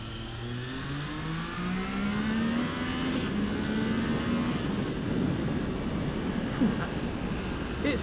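Triumph Trident motorcycle engine downshifting on the slipper clutch, revs sweeping and rising in pitch over steady wind and road roar, with a rider talking over it.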